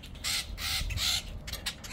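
Agitated birds near their nest during hedge or tree trimming outdoors, giving repeated harsh, crow-like caws and creaky calls in several loud bursts close to the recorder.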